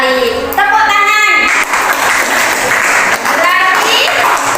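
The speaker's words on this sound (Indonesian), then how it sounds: "Tepuk tangan." A classroom of students bursts into loud, dense applause that carries on steadily, while voices talk and call out over the clapping.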